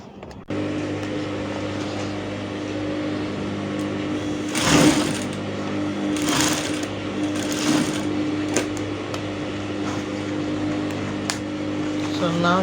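A sewing machine sews elastic onto the waist of three-quarter trousers, a close, steady mechanical hum running throughout with a few louder bursts of fabric handling and rustling.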